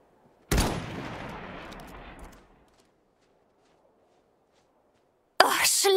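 A rifle shot in the Iron Harvest video game: one sharp loud crack followed by a decaying rumble lasting about two seconds, then silence, and at the very end another abrupt loud burst begins.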